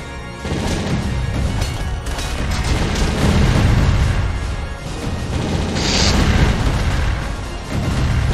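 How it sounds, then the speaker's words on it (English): Dense, continuous explosions and booming crashes from the side-scrolling brawler video game Castle Crashers, loud and sustained with layered bursts throughout. "There's so many explosions"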